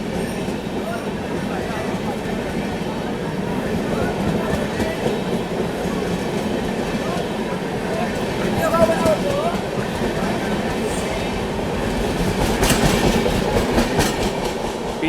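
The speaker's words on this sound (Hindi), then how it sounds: "अब स्पीड अप हो रही है ट्रेन" Bharat Gaurav special train from Chhatrapati Sambhaji Nagar to Gaya gathering speed, heard from inside: constant rumbling wheels and clickety-clack on the rails, growing slightly louder toward the end, with speech among the noise.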